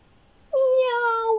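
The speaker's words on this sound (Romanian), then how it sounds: "Miau! A zis pisica." A single clear cat meow, rising then holding steady for about a second, close and alone after brief quiet.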